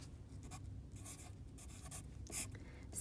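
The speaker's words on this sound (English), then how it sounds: "56 minus 24, I'm gonna write that out over here." Pen or pencil scratches out a math expression on paper in short strokes, close and quiet, with no voice in between.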